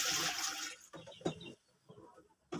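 Water is poured into a pot of coconut milk while cooking sticky purple corn with glutinous rice: a brief, splashy gush for under a second, then a few quieter clinks and knocks.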